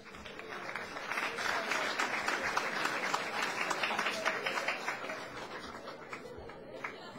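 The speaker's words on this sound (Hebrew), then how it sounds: "מוחאים כפיים ואף אחד לא רואה אותם" Audience at a rabbi's lecture in Nes Ziona claps steadily for about seven seconds, a dense, even patter of many hands with a faint chuckle here and there and no talking over it.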